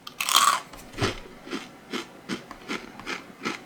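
Someone chews a crispy puffed snack, giving a steady series of close, crunchy bites roughly every half second, faint and alone with no talk.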